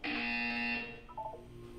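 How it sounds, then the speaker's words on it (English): An electronic buzzer from the video game Portal 2 sounds as a loud, steady, bright tone that lasts under a second and then cuts off, followed by quieter, brief game sounds. "You will hear a buzzer."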